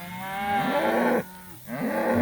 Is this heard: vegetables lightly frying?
no